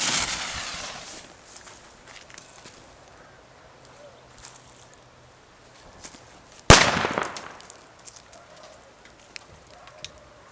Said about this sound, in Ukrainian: Зараз проведемо тест зриву, як спрацьовує граната, на яку відстань вона розлітається її осколки.